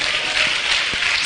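Sustained congregational clapping fills a church hall, a thick, even roar of many hands heard up close for a brief stretch.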